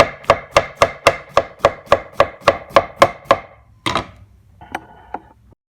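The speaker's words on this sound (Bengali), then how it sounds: "এটা আমি এখন কাটবো" Vegetables are chopped on a board with a knife for cooking, about a dozen quick, even, sharp strokes in steady rhythm, then a few slower scattered knocks, close and alone.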